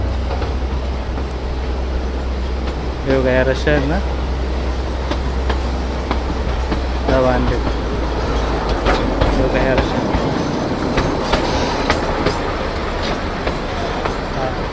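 A narrow-gauge heritage train runs on the Bilimora to Waghai line, its steady rumble and wheel clatter loud and continuous, with a few horn-like tonal blasts and people talking over it.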